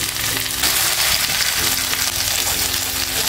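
Stuffed mackerel fish frying in a hot pan, a loud continuous sizzle and crackle with faint stirring clicks, close and steady throughout, no voices.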